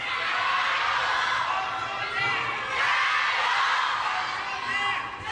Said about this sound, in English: Some Japanese fans cheering on one of these two.